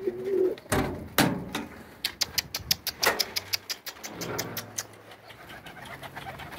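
A homing pigeon close by, with a burst of sharp, rapid wing claps and flaps, then soft cooing against a quiet outdoor background.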